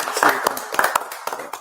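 A small group clapping for the organizers of a lowrider community event: a few scattered, uneven hand claps close by, mixed with people talking.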